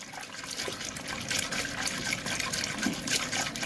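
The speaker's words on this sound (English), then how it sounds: "And then we just mix to get some bubbles." Soapy water sloshes and trickles as it is stirred by hand to work up bubbles for washing squishy toys, a continuous close wet swishing with no talk.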